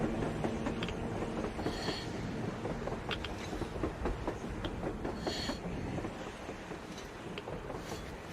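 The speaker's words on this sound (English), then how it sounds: "A train! A damn train on the surface!" A train rolls past in the video game Metro Exodus, a loud, steady rumble with rhythmic clanks over about eight seconds, blended with wind noise and no talking.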